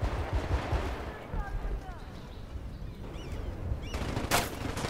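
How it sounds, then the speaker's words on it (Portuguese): Gunfire in the video game Battlefield Bad Company 2 plays as dense low-end bursts and rumble throughout, with a sharp louder burst near the end, mixed under excited talk from the player. "tô levando tiro na fuça aqui"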